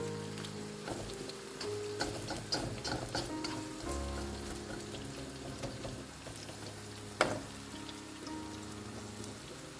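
Chopped medium onions frying and sizzling in a pan for chicken pasta, a steady crackling hiss with scattered pops and stirring clatter, one sharper clank near the end, with no talking.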